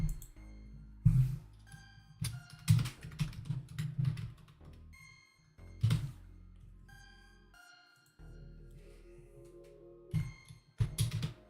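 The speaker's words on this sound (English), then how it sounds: "Sorry, guys, I'm typing up this." Keystrokes from a computer keyboard come in irregular bursts of clicks, close and moderately loud, with short pauses between flurries and no voices.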